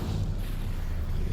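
An Incendio fire spell erupts in a Hogwarts video game, a dense, steady whooshing roar of flame with a heavy low rumble, loud and unbroken for just over a second.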